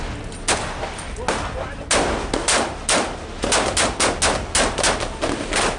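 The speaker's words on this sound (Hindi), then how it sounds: "दोनों तरफ से फायरिंग हो रही है।" Gunfire during a security forces encounter at a house in Hakipura, Pulwama, Kashmir: loud, close shots in irregular single cracks and quick bursts, repeating throughout with short gaps between volleys.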